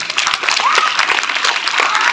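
Guests at an honour ceremony in Porbandar clap in a brief, dense burst of applause for soldiers, with many hands sounding together at moderate distance.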